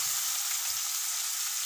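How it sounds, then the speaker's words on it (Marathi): Finely chopped onions sautéing in hot oil with browned garlic for a tomato bhaji, a steady, even sizzle that holds close and constant throughout with no talking. "आणि याला गुलाबी रंग येईपर्यंत व्यवस्थित असा परतून घ्यायचा आहे।"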